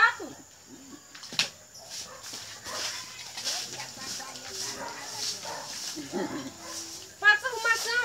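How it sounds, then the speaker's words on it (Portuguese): A dog growls, whimpers and yips while attacking a cat in a scuffle at close range, with people talking and exclaiming over the commotion. "O gato, o cachorro comendo o gato."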